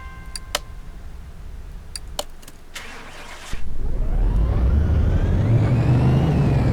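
A car engine in Car Mechanic Simulator 2018 cranks and fires up after a few clicks, then runs loud and steady, its deep roar filling the rest of the clip.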